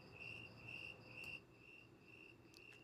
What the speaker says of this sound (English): Let's just find some crickets.